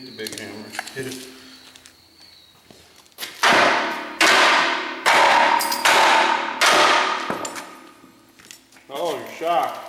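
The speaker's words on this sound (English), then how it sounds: "Get the big hammer." A big hammer strikes a demolition derby car's suspension in about five loud, ringing metal blows spaced roughly a second apart, near the listener, with people talking before and between the hits.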